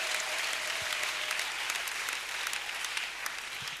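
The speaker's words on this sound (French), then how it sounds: "Applaudissez le Seigneur Jésus-Christ." A church congregation claps steadily together, a dense, even wash of applause filling the room without pause.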